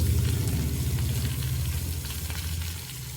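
Mudakathan keerai greens frying in a pan give off a steady, close sizzle with a low rumble underneath, easing slightly toward the end.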